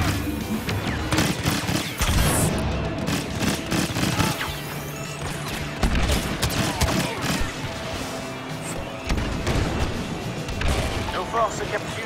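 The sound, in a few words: grenade explosions and gunfire in video game Star Wars Battlefront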